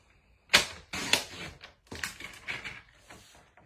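Cardstock being trimmed into card bases on a paper trimmer, heard as a few sharp close slicing strokes and clacks at an irregular pace, with no talking.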